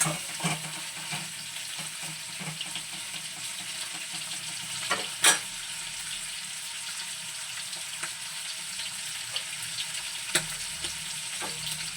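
Prawns fry in butter in a pan, a steady close sizzle running throughout with occasional clinks of stirring, including a sharper clink near the middle.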